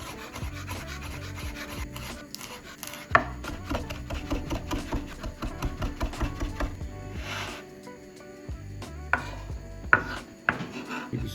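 Fresh coriander chopped on a board, a close run of quick rhythmic knife taps and scrapes that pauses briefly and resumes, with no talking.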